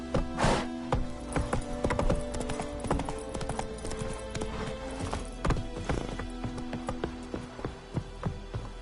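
Roach, a horse in The Witcher 3, gallops with rapid, rhythmic clip-clop hoofbeats, loud and close throughout, with an occasional whinny and no talking.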